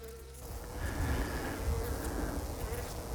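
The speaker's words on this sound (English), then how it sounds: "you can see bees and wasps, whatever is in the gorse bush, they like it" Bees and wasps hum around a flowering gorse bush on a coastal walking path, a steady low drone close by, rising slightly after a quiet start, with running water faintly beneath.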